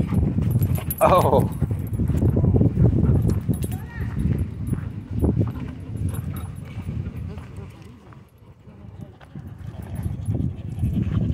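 Dogs at a dog park play tug, growling and scuffling close by with a yelp or whimper, while people talk and exclaim over the commotion throughout.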